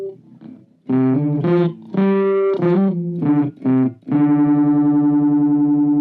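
A bass guitar runs through the octaver effect of a Hotone Ampero Mini multi-effects unit, playing several loud, distinct notes in short bursts and then ending on a sustained, thick, doubled tone, with no talking over it.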